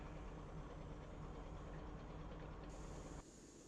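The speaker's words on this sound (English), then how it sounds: "Starting engine now 2." A simulated airliner engine starts and runs in the X-Plane 11 flight simulator, giving a steady, dense rumble and whine that holds throughout and shifts tone slightly near the end, with no talking.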